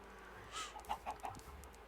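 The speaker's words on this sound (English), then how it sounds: "So we'll feed a couple chickens. The heart icon comes up. And as we can see, look at that. We have a baby chick." Chickens in the video game Minecraft give a few quick, faint clucks in a short burst over a low, quiet background.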